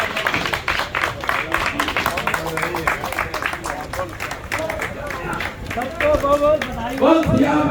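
An audience at a Ramlila performance claps loudly for a child, dense rapid clapping mixed with crowd voices and chatter, building toward the end.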